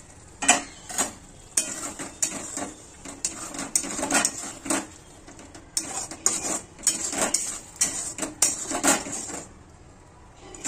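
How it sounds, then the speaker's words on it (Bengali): A utensil scrapes and clanks against a covered pan while lote fish jhuri is stirred, irregular metallic knocks and scrapes repeating close by with a faint sizzle beneath. "মাঝে মাঝে ঢাকা সরিয়ে এইভাবে নাড়াচাড়া করে নিতে হবে"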